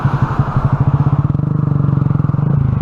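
A Honda Grom motorcycle engine runs while riding, giving a loud, close, pulsing putter whose firing beats speed up steadily as it revs.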